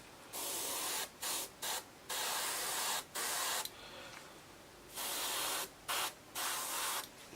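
Airbrush spraying light blue paint over a blue base coat on a model of Tornado exhausts, steady loud hissing bursts that start and stop repeatedly, about ten passes of varying length with short silent gaps between.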